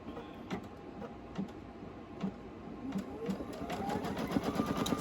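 An embroidery machine stitches a polyester sublimation patch, its needle tapping in a quick steady rhythm that gradually speeds and grows louder, close by and alone.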